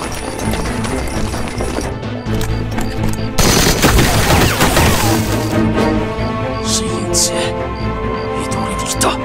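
Gunfire in a war drama battle between Eighth Route Army fighters and Japanese troops, a dense burst of shots and rattling fire that swells loudly midway and continues under a busy, noisy scene.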